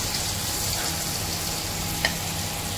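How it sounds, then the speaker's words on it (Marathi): Paneer coated in spices fries in hot oil with a steady, dense sizzle that holds through the clip, marked by one brief sharp crackle near the end. "आता आपण हे जे पनीरला मसाले लावून घेतले त्यात आपण फ्राय करून घ्यायचं."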